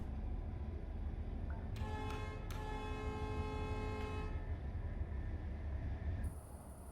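A train horn in a train video game blasts in two harmonic tones, a short toot followed by a longer sustained blast, over a steady low rumble of rail noise.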